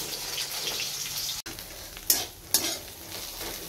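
Potato and bitter gourd frying with onion and green chilli, a close crackling sizzle broken by a brief pause and a couple of sharp metallic scrapes of the spatula.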